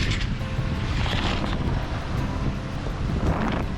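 Steady wind and ocean swell aboard a sailboat off Greenland, a constant loud rush of wind buffeting the microphone over churning water, with no voices.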